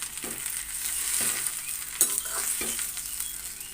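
Gongura leaves cooking in oil in a pan, with a continuous soft sizzle and a few scraping stirs of a spatula, one sharper knock near the middle, close and moderately quiet with no voices.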